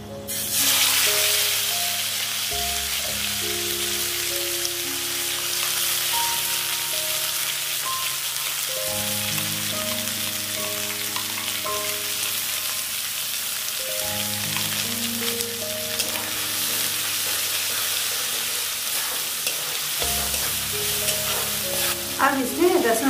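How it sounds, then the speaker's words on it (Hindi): Spice masala for an egg paneer curry frying in a hot pan, a steady close sizzle and crackle that runs the whole time beneath background music. "आप जो मसाला हमने तैयार किया था इसको डाल देंगे।"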